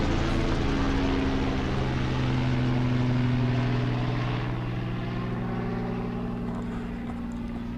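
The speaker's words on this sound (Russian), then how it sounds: "Вертолет сзади меня где-то летит." A helicopter drones steadily overhead near a drying pond in a village, its engine and rotor hum loud at first, then slowly fading as it moves away.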